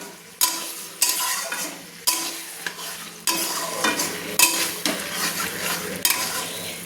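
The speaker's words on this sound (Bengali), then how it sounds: "আবারও ভালো করে আমি চিকেনগুলো আমি মশলার সঙ্গে কিন্তু নেড়ে নিচ্ছি।" Spicy chicken with masala is turned with a spatula in a pan, giving repeated scraping strokes and knocks against the metal over a steady frying sizzle, close and prominent.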